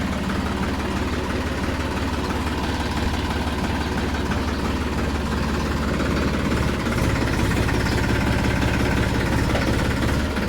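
A farm tractor idles close by with a steady low rumble and vibration throughout, the engine note roughening slightly partway through, and no talk over it.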